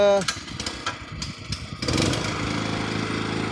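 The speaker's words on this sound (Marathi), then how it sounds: "तर आता आपण जनरेटर चालू करतोय." A generator being started, with a brief stretch of clicks and rattles followed by a loud engine catching and settling into a steady running drone.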